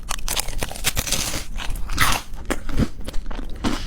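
Close, loud crunching bites and chewing of a crisp chocolate-orange pastry shaped like fake fruit, sharp crackling snaps repeating irregularly with no talking.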